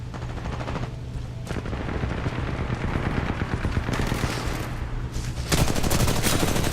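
Rapid rifle gunfire from the Titanfall 2 video game in a pilot-versus-pilot match, a steady stream of close, loud shots running throughout with a heavier burst near the end.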